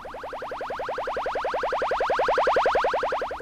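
A rapid train of synthesized kick-drum pitch sweeps repeats about ten times a second, like a descending whistling bomb, building slightly and then cutting off.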